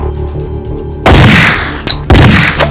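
Gunfire in a nighttime action-movie shootout among trees: after a quiet stretch, two loud, close bursts of shots crack out with booming echoes.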